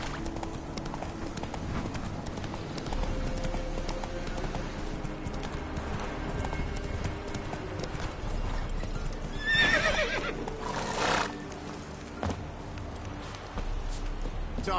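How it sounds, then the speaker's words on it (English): Horses clip-clop along at a trot in The Witcher 3, steady hoofbeats throughout, with one neigh rising briefly near the middle over a soft game-world ambience of birds. "Time to water the horses."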